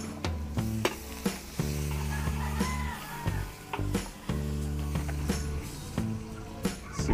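Garlic sizzles loudly in hot margarine in a pan, a steady frying hiss broken by repeated sharp clinks and scrapes of a utensil against the cookware.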